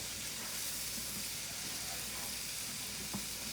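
Onions and leeks frying in olive oil in a pan, giving a steady, close sizzle with soft crackle throughout and a small clink near the end.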